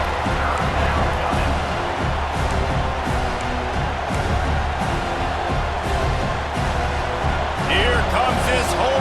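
Home crowd roaring in the EA Sports College Football 26 video game as the defense faces third down, a loud, continuous stadium wash that swells near the end, with a commentator talking over it.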